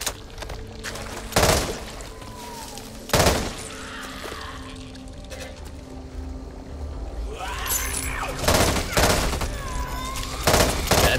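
Gunfire in the shooter Back 4 Blood, with several sharp, loud broadband shots and short bursts spread across the stretch over a steady game ambience.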